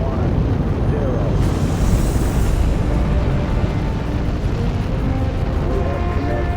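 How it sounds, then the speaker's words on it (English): Saturn V rocket engines roaring through ignition and liftoff: a loud, continuous, broadband rumble that holds steady and dense from start to finish. "We have ignition sequence start. The engines are on."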